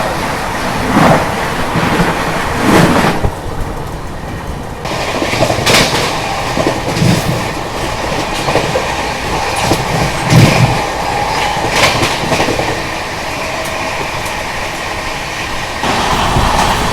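The Vikramshila Superfast Express runs at speed, a loud continuous rushing rumble with repeated clickety-clack beats from the wheels over the rail joints, heard close from on board and without voices.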